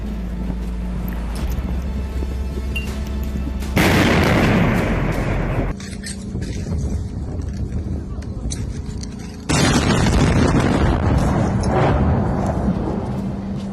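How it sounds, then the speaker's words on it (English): A Ukrainian T-64 main battle tank fires a couple of shots from a distance during street fighting in Kharkiv, loud booming blasts over a constant rumble and battle noise. "From a safe distance, the tank makes a couple of shots."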